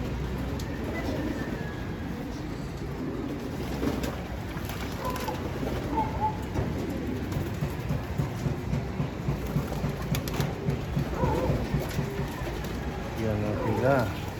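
Racing pigeons cooing softly while being bathed, their calls mixed into a steady wash of splashing water and outdoor noise, with a person talking briefly nearby.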